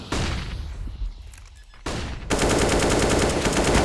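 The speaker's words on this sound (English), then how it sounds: "Pre-fire from Fiku" Rapid bursts of automatic gunfire in the video game Counter-Strike during a professional CS:GO match, loud and dense with a sustained rattling volley at the end.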